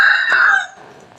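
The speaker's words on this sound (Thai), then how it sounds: "ก็ไก่กินอาหารกันตรงนี้" A chicken crows loudly and close by for about half a second, then trails off into quieter clucking and farmyard noise at a temple in Lampang, Thailand.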